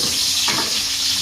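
A brief burst of hissing, sizzling oil as catfish fries in a pan, with a constant close crackle and no talking.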